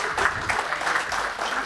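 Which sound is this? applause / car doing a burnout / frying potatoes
applause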